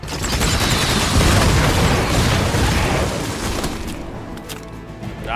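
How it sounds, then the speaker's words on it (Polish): Explosion attack in the Marvel Midnight Suns video game booms loudly and roars on for several seconds with crackling bursts, then fades into lighter scattered debris pops. "Weźmy wybuch w tego."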